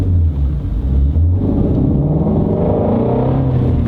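A Shelby GT350 on rear Michelin Pilot Super Sport tires pulls uphill, its engine rumbling loud and close as it climbs toward redline, with rising harmonic tones building through the run.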